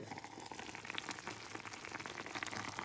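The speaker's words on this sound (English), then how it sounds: "Sizzled for 15 minutes and I'm taking the lid off." Stinging nettle soup sizzles and bubbles in a pot, a steady, close crackling hiss with a constant, even texture and no voices.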